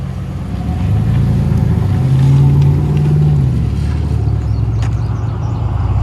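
A 2013 Lexus IS 350 F Sport with dual Flowmaster Flow FX exhaust holds a deep, loud, steady exhaust rumble with a brief rise in pitch as it revs, then settles back.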